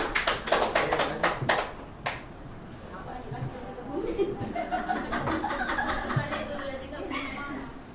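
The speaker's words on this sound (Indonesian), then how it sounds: "Aplaus dong untuk semua." Scattered clapping from a group of teachers at SDN 06 during a school training session, with sharp handclaps bunched at the start, then fading into murmuring voices and light laughter.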